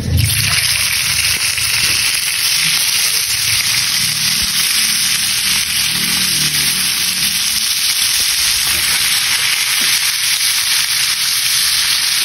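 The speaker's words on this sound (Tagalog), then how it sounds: "mga pare ko, so ipa-fry na natin yan." Filled food frying in hot oil, a steady broad sizzle that holds loud and continuous throughout with faint low bubbling beneath.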